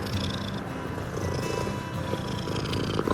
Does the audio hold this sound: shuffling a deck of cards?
no